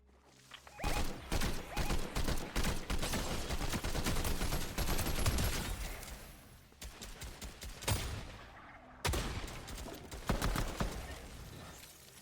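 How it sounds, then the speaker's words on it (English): Rapid bursts of gunfire rattle through a Fortnite match, dense volleys of shots that stop and restart several times, loud and continuous with short gaps. "I was running towards the gunshots that were out in the distance there"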